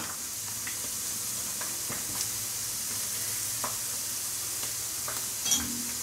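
Steady sizzle of potatoes frying in a pan, a constant hiss with occasional soft clicks and a small pop near the end, no voices.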